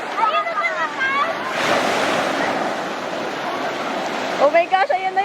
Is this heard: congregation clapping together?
no